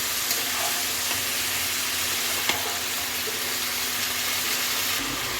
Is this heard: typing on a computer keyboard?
no